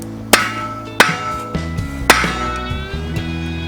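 Hammer blows on hot metal at an antique blacksmithing forge, four sharp ringing strikes spaced unevenly, loud and close, each leaving a bright metallic ring over a steady low hum.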